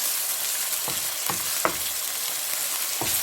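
Beef achari gosht fries in a pan with a constant hiss, broken by a few sharp scraping strokes of a spoon as the meat is stirred, close and clear with no talking.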